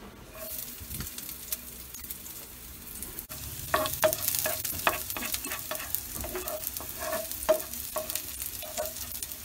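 Onions added to browned garlic fry in hot oil, a soft steady sizzle with repeated scraping and clicking stirs, the frying swelling noticeably partway through and continuing close and unbroken.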